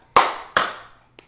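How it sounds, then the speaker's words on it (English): Two loud, sharp hand claps ring close by about half a second apart, each with a short decaying tail, followed by a much fainter third clap. "clap?"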